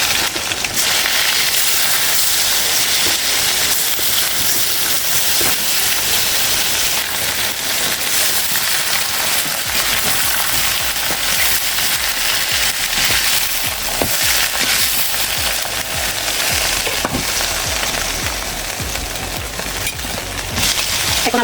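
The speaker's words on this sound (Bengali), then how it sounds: "সরিষার তেল দিয়ে মাংসগুলো ভেজে নিচ্ছি।" Chicken pieces fry in hot mustard oil for a curry, making a loud, dense, continuous sizzle and crackle that runs steadily from start to finish.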